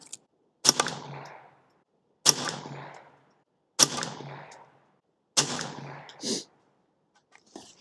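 Four sharp, loud shots from a Derya TM22 .22 rifle at a range, spaced about one and a half seconds apart, each with a short decaying echo and a faint metallic clink after the last.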